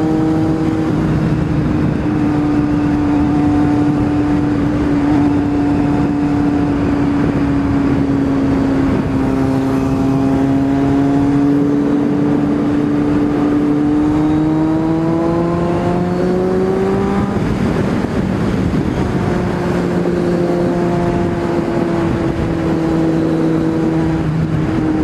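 Kawasaki Z750 motorcycle accelerating hard through rising gears, a loud close engine whine that climbs in pitch, drops at each shift and climbs again over steady wind noise, with no talk.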